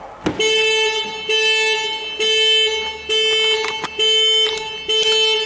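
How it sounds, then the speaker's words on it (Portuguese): A car alarm sounds loudly and close by as the vehicle is opened with its key, blaring in repeated steady tonal honks of about a second each with short gaps between them. "O alarme vai disparar."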